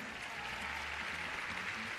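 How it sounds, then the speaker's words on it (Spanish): Steady, dense applause from a graduation ceremony audience for the performer Luciano, a continuous mass of clapping at moderate distance with no talk over it. "Un aplauso enorme"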